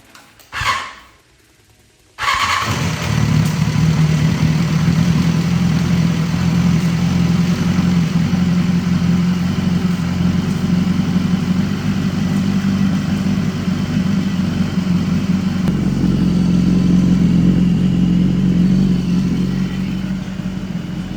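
A flood-damaged BMW S1000RR superbike engine cranks briefly, then fires and settles into a loud, steady idle with a rough, clattery edge, running alone for about twenty seconds close by.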